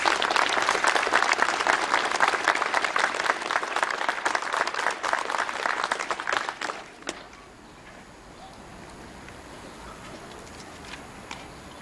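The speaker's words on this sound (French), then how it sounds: "Est-ce que je peux vous demander avec moi de les applaudir pour leur engagement ?" An audience applauds at an end-of-session ceremony in Dunkirk, clapping dense and loud for about seven seconds before cutting off abruptly into quiet room tone with only faint stray sounds.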